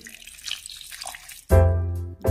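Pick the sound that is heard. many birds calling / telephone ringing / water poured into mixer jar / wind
water poured into mixer jar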